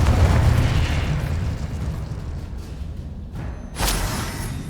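Fire and explosion spells go off in Hogwarts Legacy, a loud roaring blast that fades into crackling rumble, followed by a sharp burst near the end, with no speech over it.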